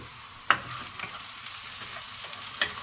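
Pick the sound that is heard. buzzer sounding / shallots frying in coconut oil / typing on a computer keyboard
shallots frying in coconut oil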